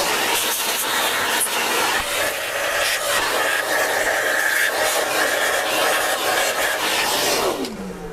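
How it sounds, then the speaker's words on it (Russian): A vacuum cleaner cleaning out the grinder of a Nivona 690 coffee machine, a loud, continuous rushing whine with rattling and rubbing scrapes, close up, then the motor winds down toward the end. "Сейчас это все пылесосим."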